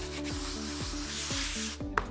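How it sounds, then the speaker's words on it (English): Sanding of a benchtop surface during resurfacing, a steady abrasive rubbing with repeated back-and-forth strokes roughly every half second, close and fairly loud, with a brief sharp knock near the end. "Okay, sanding's done"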